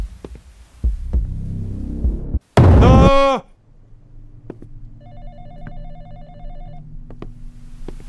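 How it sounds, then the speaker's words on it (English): An old telephone rings in a dark indie horror game, a loud burst of harmonic ringing lasting under a second, set against a low droning hum, scattered thuds and a faint repeating electronic tone. "Phone's ringing."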